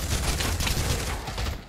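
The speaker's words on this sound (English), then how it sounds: "the M249 is insufferable" M249 machine gun in the video game Pavlov firing one sustained automatic burst of rapid, closely packed shots, loud and close throughout.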